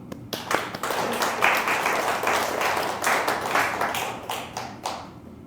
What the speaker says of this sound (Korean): 우리 서로를 위해서 박수 한번 쳐드리죠